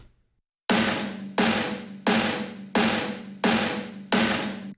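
Snare drum heard through a heavily processed room microphone in a modern metal mix: six evenly spaced, loud, booming hits, each with a long washy room tail, with no voices.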